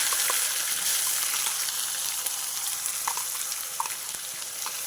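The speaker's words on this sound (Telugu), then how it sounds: "ఈ ఆయిల్లో మసాలా పేస్ట్ కొంచెం వేగాలి" Masala paste sizzling steadily in hot oil in a pan for a Telugu jackfruit-seed curry, a continuous close hiss with faint stirring ticks and no voices.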